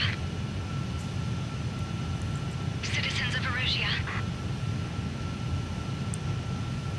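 Jet fighter engine in Ace Combat 7 gives a steady broadband roar throughout, with a brief higher whine rising over it midway and speech-like sounds mixed into the drone.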